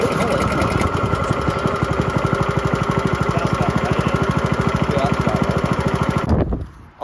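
A small pull-started engine runs steadily with its choke on, a fast even chugging pulse that holds loud and close before cutting out abruptly near the end.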